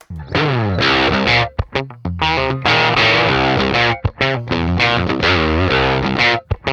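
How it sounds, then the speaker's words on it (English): Heavily distorted electric guitar through a Black Diamond Distortion playing chugging chords and riffs, loud and saturated, with brief choppy pauses between phrases. "we can hear the Black Diamond Distortion"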